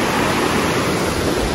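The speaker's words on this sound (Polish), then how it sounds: "Wzburzony potok, to ze względu na dość obfite" A turbulent mountain stream swollen by heavy rain rushes in a steady, loud roar of water that masks everything else, with no voices heard.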